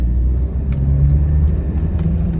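A 1994 Land Rover Discovery 300Tdi automatic on a rough road makes a loud, steady low rumble of engine and tyres heard from inside the cabin, with faint knocks from the bumpy surface.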